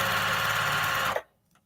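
A sewing machine stitching binding onto repurposed plate mats runs in a steady close whirr, then stops abruptly, leaving near silence with a faint tap.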